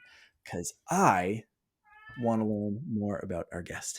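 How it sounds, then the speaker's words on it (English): A house cat meows a few times, drawn-out and fairly close, under and between a person's talk indoors. "You might also hear my cat."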